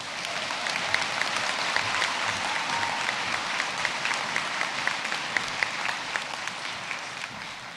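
Sustained applause from the audience at a university conferring ceremony for graduates, an even, dense clatter of clapping heard at moderate distance throughout with no speech.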